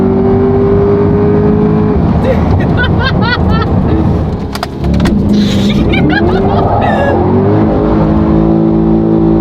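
An electrified all-wheel-drive Corvette does a stationary burnout on a closed road, revving hard and continuously with tires squealing, loud and close, while voices exclaim excitedly over the roar.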